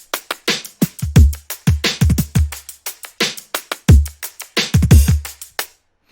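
A punchy electronic drum beat plays alone, with booming tuned kicks, sharp snares and crisp shaker and hi-hat ticks in a steady, loud, tightly programmed groove.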